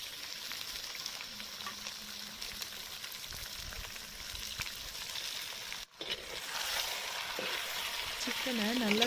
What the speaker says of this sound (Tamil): இந்த நேரத்தில் நம்ம கழுவி வச்ச சிக்கனை சேர்த்துக்கலாம்.